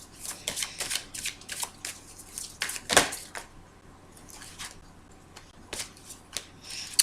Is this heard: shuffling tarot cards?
yes